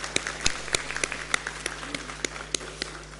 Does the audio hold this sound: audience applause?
yes